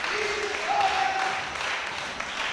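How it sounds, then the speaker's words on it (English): A powerlifting championship crowd at a world open classic event, with German fans on their feet cheering and clapping in a steady, distant wash of applause. "The Germans on their feet in the crowd."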